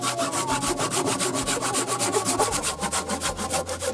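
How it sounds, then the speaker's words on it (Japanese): A handsaw rasps steadily through a 90 mm square wooden timber for a pizza oven roof, with rhythmic back-and-forth strokes, close and continuous, with no talk. "170センチの方を切っていきたいと思います。"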